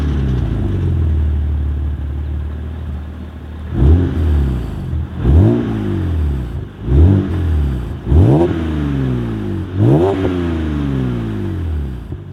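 BMW Z4 Coupe track car, a Nürburgring Nordschleife tool, starts with a low idle rumble, then gives five sharp throttle blips that each rise and fall, loud and close, with no talk.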